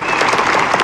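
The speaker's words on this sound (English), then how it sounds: "Once again, giving up a round of applause" Brief, loud burst of crowd clapping inside the Don Haskins Center basketball arena before the 2021 Sun Bowl tournament game between Bradley and UTEP.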